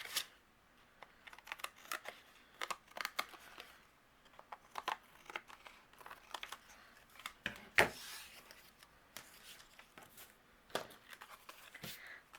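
Excess paper being trimmed off a card panel, heard as close, uneven snips, crinkles and handling clicks with one sharper snap partway through, all quiet and without talk.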